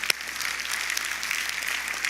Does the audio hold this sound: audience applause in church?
yes